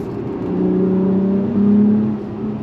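A 2025 Acura TLX Type S turbocharged V6 with automatic transmission drones steadily, its pitch stepping up as it downshifts, a smooth, loud interior hum with no talking.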